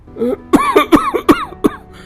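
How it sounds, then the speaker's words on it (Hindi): A run of harsh, hacking coughs, five or six bursts in quick succession, close and loud with short gasps between them. "अरे इस खांसी ने तो नाक में दम कर दिया भाई"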